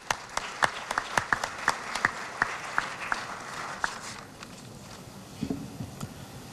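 Scattered applause from an audience at an academic ceremony as a rector steps up to speak, individual sharp claps fairly close and thinning out toward the end into quieter room noise.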